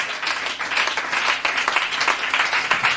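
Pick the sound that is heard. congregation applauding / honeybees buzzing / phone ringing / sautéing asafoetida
congregation applauding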